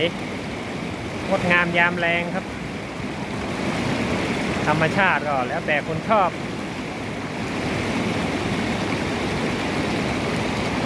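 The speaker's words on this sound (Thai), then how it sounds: "โอ้ยสายน้ำไหล" Water rushes steadily over an overflow weir swollen after several days of rain, a constant broad roar outdoors while someone speaks over it twice.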